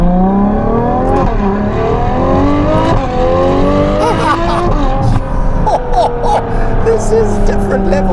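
Novitec-tuned Ferrari 12Cilindri with a naturally aspirated engine and aftermarket exhaust, revving loudly in rising sweeps through the range with shifts between pulls, the engine note climbing repeatedly while a voice speaks over it.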